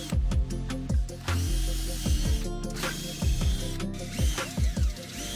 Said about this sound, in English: Now I can drill my four holes.